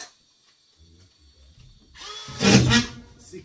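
A power drill whirs briefly as it drives a screw into drywall board during installation, a short rising burst after a few soft knocks and handling sounds.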